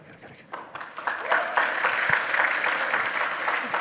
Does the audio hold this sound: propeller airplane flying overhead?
no